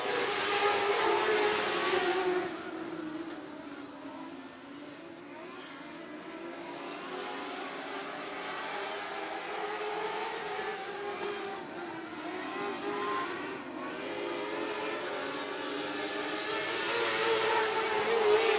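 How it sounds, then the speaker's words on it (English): Race cars roar around the 105 Speedway oval on a green-flag restart, a loud continuous engine drone with rising and falling pitch as the pack passes, sustained throughout. "We are back, green flag racing."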